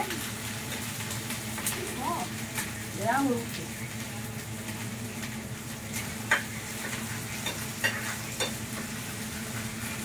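Garlic and red chili fry in a pan for chicken korma, a steady soft sizzle with occasional stirring scrapes and light clinks, while a voice speaks faintly in the background.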